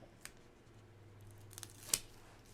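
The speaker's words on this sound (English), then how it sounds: "So I'm actually just going to trim to match how I have the tape placed." Scissors trim a tape-wrapped backing board for a dollar-store bulletin board: a few faint, quick snips scattered over a quiet room, with one crisper cut near the end.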